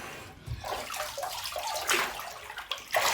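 Pool water splashes and sloshes as an infant is dipped fully under during a baby swimming session, with several soft splashy bursts close by and no talking.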